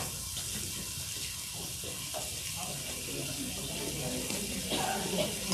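Pasta water pours into a sauce pan, making a steady splashing gush over a sizzling pan, with faint talk in the background.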